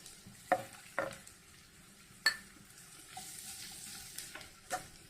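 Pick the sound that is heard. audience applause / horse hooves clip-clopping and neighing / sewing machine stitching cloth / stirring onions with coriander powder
stirring onions with coriander powder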